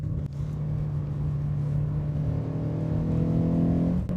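A Citroën Saxo VTS engine climbs steadily in revs, its tone rising and growing louder over a few seconds before easing off, heard nearby with no voices.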